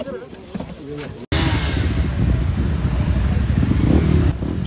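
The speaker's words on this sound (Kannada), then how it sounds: "ಅವ್ರವ್ರ ಬೈಕ್ ತೆಗೆಯಂತಾರ ಸೌಂಡ್ ಮಾಡ್ಕೊಂಡು ಈಗ ಹಂಪಿ ಕಡೆ ರೈಡ್ ಸ್ಟಾರ್ಟ್ ಆಗೈತಿ" Several motorcycles start and rev together as riders set off toward Hampi on a helmet-awareness ride. After a brief cut, a loud, steady mix of engine rumble continues close by, with a rising rev near the end.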